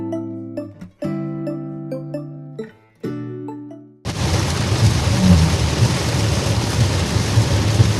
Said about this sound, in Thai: ปกติที่นอร์เวย์ฝนจะไม่ตกแรงแบบนี้นะคะ